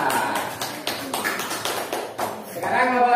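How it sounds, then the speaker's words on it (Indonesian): A classroom of students claps for a group that has just presented, a short burst of brisk, uneven applause close by, with a voice speaking over it. "Tepuk tangan untuk kelompok Mbak Akila."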